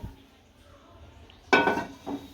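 A pan is set down on a kitchen gas stove with one sharp metallic clatter, then a softer clink a moment later, close and otherwise quiet.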